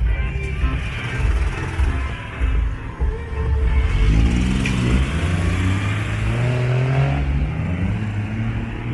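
Street traffic on 11 Avenida Norte and Primera Calle Poniente in San Salvador, with a steady rumble of cars and an engine revving and accelerating close by, alone without talk.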